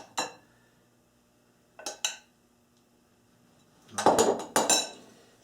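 Sweet green pepper being stirred with vinaigrette in a dish for a salade niçoise, giving three separate bursts of clinking utensil-on-dish scraping and tapping, the last one longer and louder, with quiet pauses between.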